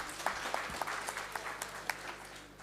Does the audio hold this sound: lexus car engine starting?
no